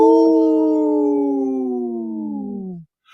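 A person on a radio show imitates a wolf with one loud, long howl lasting nearly three seconds that slides slowly downward in pitch, followed by a brief silence.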